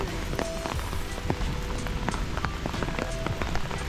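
Steady rain patters through a Swiss forest on a wet day, dense and continuous with scattered sharper drops striking close by, and no voices over the constant hiss.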